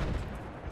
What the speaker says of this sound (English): He's just blind firing it into the office.